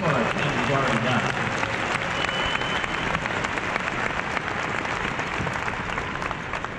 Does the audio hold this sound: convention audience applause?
yes